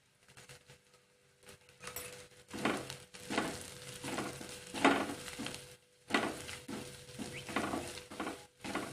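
Red chili powder sautéing in hot oil for dal tadka: a soft steady sizzle with repeated scraping strokes of a spatula against the pan in irregular bursts, close and quiet, with no voices.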